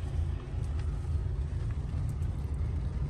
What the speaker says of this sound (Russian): Сейчас двигатель у нас запущен,